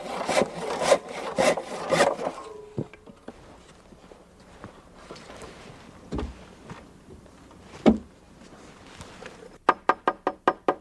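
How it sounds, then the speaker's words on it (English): A handsaw cuts notches into a wooden deck board with a rapid burst of rasping strokes, followed by scattered knocks and handling sounds and a final quick run of short sawing strokes, all close and fairly quiet. "And finish the cuts with a handsaw."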